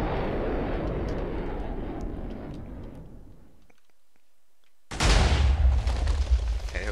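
A fragmentation missile in a Minecraft mod fires with a fading rush, then a short near-silence, then a loud, deep explosion that keeps booming and rumbling, with no talk.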